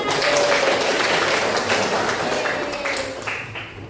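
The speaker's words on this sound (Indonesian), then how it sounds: "Tepuk tangan." A school class applauding at the end of a lesson, a dense burst of many hands clapping together that fades slightly toward the end.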